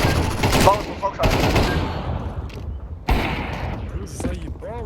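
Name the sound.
gunfire in a shooter video game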